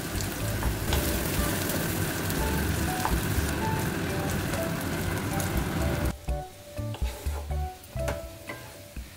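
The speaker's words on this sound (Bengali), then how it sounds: "পেঁয়াজগুলো কিন্তু সমানে নেড়ে চেড়ে ভাজতে হবে।" Onions frying in oil in a pan while being stirred, a loud steady sizzle that cuts off abruptly partway through, leaving scattered spoon scrapes and clatter against the pan.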